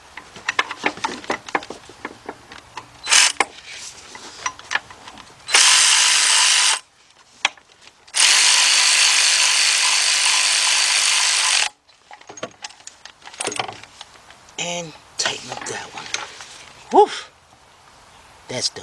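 A ratchet tightens bolts on a Volkswagen Beetle engine during head gasket and timing belt work. Scattered clicks and clanks are followed by two long, loud, harsh bursts of tool noise, then lighter metallic handling, with someone speaking briefly.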